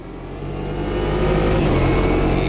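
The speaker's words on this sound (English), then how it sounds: "Brazilian racing trucks." A Brazilian racing truck's engine revs in the Automobilista 2 racing game, its throaty mechanical drone building steadily louder and holding strong without any talk.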